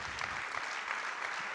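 Steady applause from a conference audience greeting the moderators at a 2017 closing session, a continuous dense patter of many hands at an even level.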